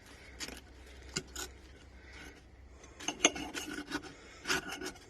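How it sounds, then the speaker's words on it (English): A knife slices through a mushroom and spinach quesadilla, giving several short, close raspy cuts and scrapes in separate bursts with quiet gaps between them. "I'm going to cut the quesadilla in half so that you can see what it looks like"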